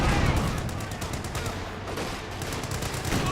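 Dense, continuous machine gun fire in the World War II strategy game Company of Heroes 2, rapid overlapping bursts from paratroopers' weapons forming a loud, steady rattle across the whole stretch.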